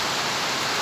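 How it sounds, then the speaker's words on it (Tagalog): Continuous rain falls in a steady, dense hiss, loud and unbroken, with no other sounds. "Tuloy-tuloy ang ulan."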